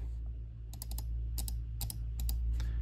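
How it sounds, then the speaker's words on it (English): A series of sharp, crisp clicks from a CAD Mouse Pro's buttons in quick little clusters, fairly close, over a steady low hum with no voices. "the loud mouse click sound"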